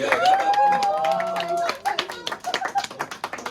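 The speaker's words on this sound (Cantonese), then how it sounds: "大家俾掌聲" Crowd at a Beyblade tournament final in a card shop arena: a loud voice and cheering open the moment, then scattered, uneven hand claps follow in short bursts, close and fairly sparse.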